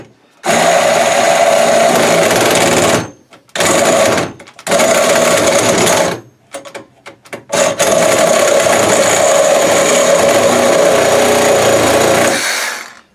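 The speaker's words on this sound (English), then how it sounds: "Okay, so let's try the Sawzall." A Sawzall reciprocating saw cuts through EMT conduit, making loud, harsh, buzzing runs broken by several short pauses, with a long continuous stretch of cutting at the end.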